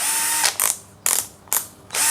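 A DCA ADJZ2035i cordless impact drill clicks through its torque clutch and mode settings in four short, close ratcheting bursts separated by brief quiet gaps.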